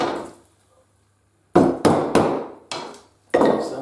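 A round punch is hammered through canvas and leather, giving five sharp, close, loud strikes with short ringing tails after a brief quiet start and a near-silent pause.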